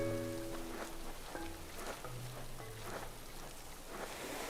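Soft, steady rain patters in a video game setting, a faint wash of drops under quiet game tones and a few brief chiming notes, with no talk over it.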